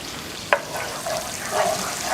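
Garlic sizzles in oil and a little butter in a pan for garlic shrimp, a steady close hiss with a single sharp tap near the start.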